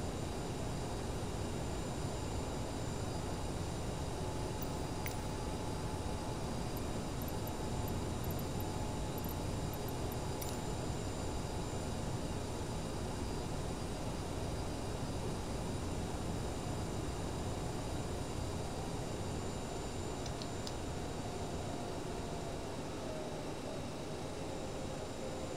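A steady, unbroken drone from an airplane in flight in Microsoft Flight Simulator, loud and constant broadband engine and wind noise with a few faint tones above it, and no voices.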